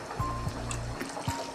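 Water is poured into a pan of frying okra and meat curry, giving a steady gurgling, sizzling rush with a few low thumps and bubbling pops, close by and with no talking.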